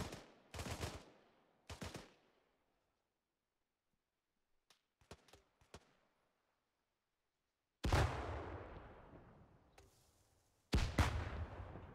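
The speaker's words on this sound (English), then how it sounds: "That frag hit the trees." Frag grenade blast in a wooded area in ArmA 3: two sharp, loud booming bursts, a few faint pops in between, then two more heavy explosions with long decaying rumbles echoing through the trees.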